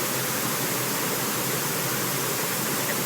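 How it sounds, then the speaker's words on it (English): A steady, loud wash of broadband white noise plays as a test signal from the THX optimizer on a DVD of A Bug's Life, hissing evenly with no variation and no voices. "Oh God, white noise!"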